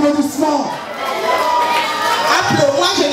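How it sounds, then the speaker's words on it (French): Crowd at a concert in Lausanne greeting singer Clarisse Alima with loud applause, cheers and shouting, a continuous dense roar of many voices and hands lasting throughout. "s'il vous plaît, sous vos applaudissements."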